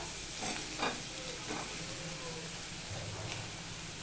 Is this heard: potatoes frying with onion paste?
yes